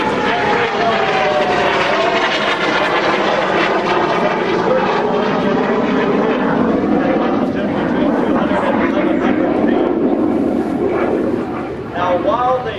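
A vintage propeller-driven warbird flies over the EAA Oshkosh AirVenture airshow, its engine drone loud and steady throughout, a rough wavering roar with shifting pitch as it passes.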